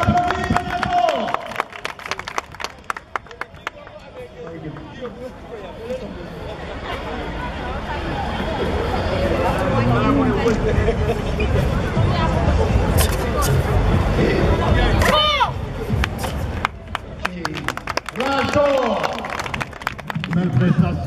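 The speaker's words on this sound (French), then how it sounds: "On les applaudit très fort!" Olympic-day audience clapping and cheering for a performance, a crowd wash building under a loud announcer's voice with background chatter throughout.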